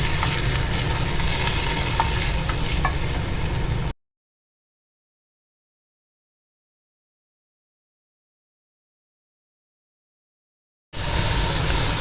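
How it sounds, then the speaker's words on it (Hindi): Tomato paste frying in oil for a dhaba-style egg curry (anda do pyaza) masala, a steady loud sizzle for a few seconds that cuts out into a long silence before the sizzle returns briefly at the end. "बुनाई पे हम बिल्कुल भी कंप्रोमाइज़ नहीं करेंगे, बुनाई हम अच्छे तरीके से करेंगे इसकी"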